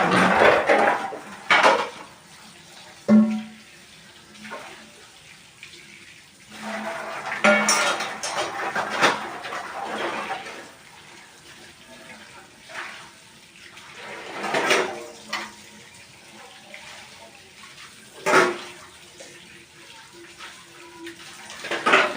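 Dishes and a wok (kadai) being scrubbed under running water in a home kitchen in the early morning: irregular clatter and scraping of metal utensils over the rush of the tap, with the sounds coming close and at varying loudness.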